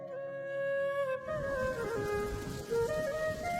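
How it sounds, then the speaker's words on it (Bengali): Rain begins to fall in a Bengali cartoon fairy tale: a soft hiss of rainfall sets in abruptly after a second and continues under a gentle melodic music score. "আবার বৃষ্টি পড়তে শুরু করলো"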